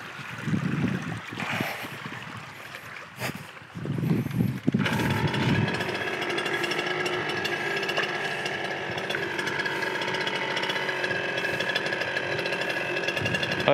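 A small engine-driven ditch-cutting machine for draining a rice paddy starts up and runs with a steady, loud buzzing drone that continues without pause, following a few seconds of bumps and handling noise.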